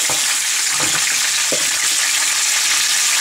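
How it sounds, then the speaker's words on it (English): Peppers and onions hit a pan of hot pork marinade juice for fajitas and sizzle loudly and steadily, with a few brief stirring scrapes near the start. "and onions are going in the pan"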